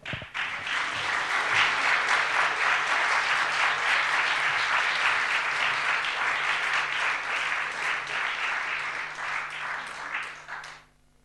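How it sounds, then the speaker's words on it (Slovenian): An indoor audience at an evening talk event applauds the moderator as she is welcomed: dense, steady clapping from a large crowd lasts about ten seconds before fading out quickly. "Prosim, zaploskajte ji."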